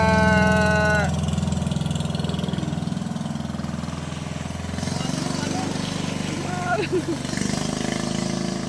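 Small motorboat passing near a fishpond, its engine droning steadily at mid range throughout, with voices calling out over it.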